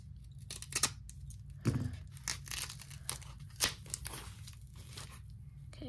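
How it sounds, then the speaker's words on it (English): Scissors snip and tear through packing tape sealing a mailed package of baseball cards, a series of close crisp cuts and crinkles with short pauses between them. "Just trying to gently cut this tape so we can open it."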